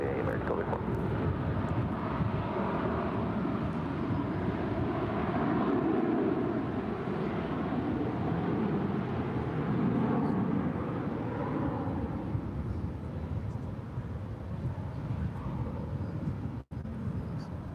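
American Airlines A321 departing runway 18 left at DFW, a steady broad jet engine roar holding at constant level throughout, with wind buffeting on the microphone and a brief click near the end.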